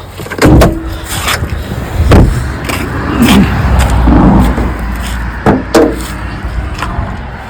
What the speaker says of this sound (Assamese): বনখন খুলি আপোনাৰ ইঞ্জিনটো দেখাই দিছোঁ।